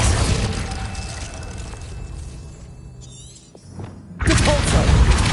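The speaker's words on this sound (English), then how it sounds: "Confringo. Glacius." Confringo and Glacius spells cast in Hogwarts Legacy combat: a rumbling blast fades to a quieter stretch with a small whistling flourish, then a sharp crack and a loud broad burst of impact noise.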